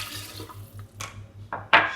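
Cold water for homemade lime juice pours into a container in short splashy bursts, close and moderately loud, with a low steady hum underneath.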